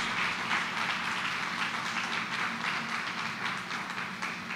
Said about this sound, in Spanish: Y merece un aplauso.